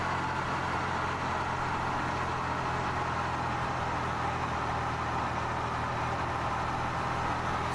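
A PMDG Boeing 777 in Delta livery runs its engine in the flight simulator MSFS 2020, producing a steady, loud, broadband roar with a low hum that holds unchanged throughout.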